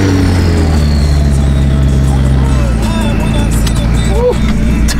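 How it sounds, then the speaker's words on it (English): Turbocharged Ford Mustang engine revving nearby, a loud continuous rumble with a rising and falling whine on top, while people greet each other and chat over it. "Turbo's going crazy."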